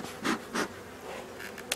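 Honeybees buzz steadily inside a queenless hive, a dense insect hum that swells twice in louder bursts and then settles back, close and with no voices.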